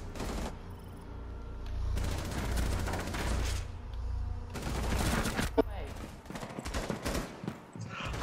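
Gunfire in a video game shootout: rapid bursts of shots in clusters over a low rumbling background, with a few louder single cracks near the end and a voice talking.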